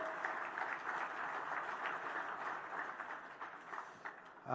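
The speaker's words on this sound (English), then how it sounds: "How about a round of applause for Dominic?" Steady applause from an awards-banquet audience, a dense even patter of many hands clapping at moderate distance, holding level throughout before a louder burst at the very end.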